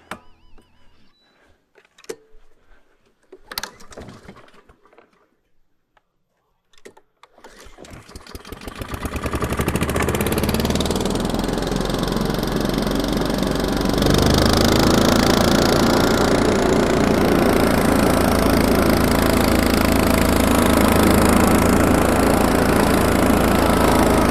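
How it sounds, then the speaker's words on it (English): After some quiet handling clatter, the small engine of a BillyGoat lawn vacuum sputters to life and settles into a steady, loud running drone. "We're going to break out the BillyGoat lawn vacuum and just give it a try"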